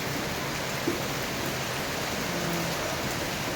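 Heavy rain pours steadily, a dense, constant hiss of drops with no other sounds standing out.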